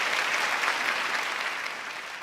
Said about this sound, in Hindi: अरे तालियां भाई, तालियां।